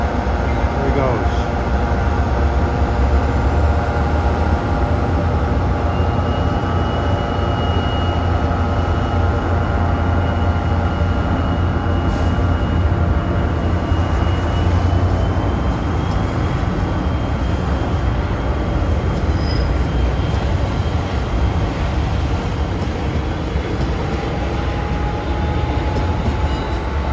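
New Jersey Transit train 4909 on the main line passing close by, a continuous loud rumble of wheels on rail with faint squeal, steady throughout with no voices.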